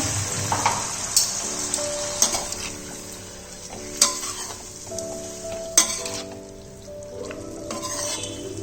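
Vegetables with spices and about a cup of added water are stirred in a pan for a vegetarian chorchori, giving a steady soft sizzle and simmer with scraping stirs and occasional sharp utensil clinks against the pan, no talk.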